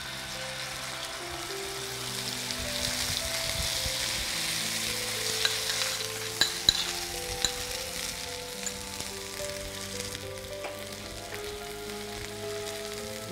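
Masala paste sizzles and fries in hot oil in a pan, a dense, continuous crackling hiss with occasional sharper pops, close and steady throughout.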